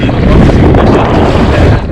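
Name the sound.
wind blowing into microphone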